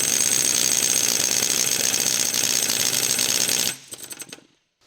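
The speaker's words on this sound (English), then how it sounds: "Activate the pneumatic puller." Pneumatic puller pulling an injector from a 2011 Land Rover Discovery 4 engine: a loud, steady high-pitched air-driven hammering that runs continuously, then cuts off abruptly, leaving a few brief clanks and rattles before silence.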